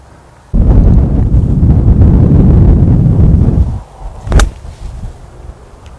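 Strong tailwind buffeting the microphone on a golf course, a loud roaring rumble for about three seconds that then drops to a lighter gusting, with a brief sharp thump near the end.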